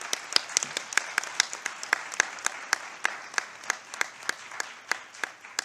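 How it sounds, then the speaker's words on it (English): Audience at the global launch event of a conference gives another round of applause: a steady, rhythmic clapping with evenly spaced sharp claps, moderately close and continuing without breaks. "for us to come back and give another round of applause to the presence here, because the first one was not loud enough"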